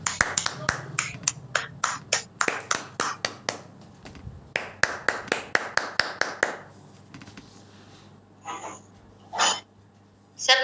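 Scattered hand claps ring out in a Zoom meeting, a quick burst of many sharp close claps that thins out into a few isolated ones.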